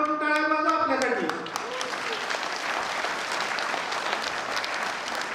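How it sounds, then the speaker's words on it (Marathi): A crowd at the Mahar Regiment 85th anniversary celebration in Satara claps loudly with raised hands, the applause swelling over a brief trailing voice at the start and then holding as a dense, even roar. "एकदा जोरात वर हात करून टाळ्या वाजवा आपल्यासाठी."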